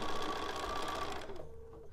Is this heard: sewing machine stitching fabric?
yes